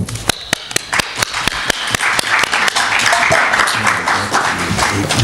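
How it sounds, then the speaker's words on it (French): Applause from an audience for a speaker at a French talk: sharp individual claps ring out first, then swell into dense, loud continuous clapping. "Applaudissons pour monsieur"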